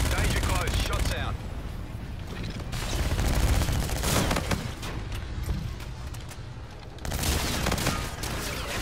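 Sustained bursts of automatic gunfire in a military shooter game, dense and loud throughout with brief easing in the middle, under radio-style voice chatter.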